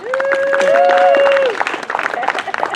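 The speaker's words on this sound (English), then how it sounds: "We should probably give him some applause." Audience applause at an outdoor summer music performance on a lawn, with a rising, wavering whistle over it at first, then scattered clapping continues.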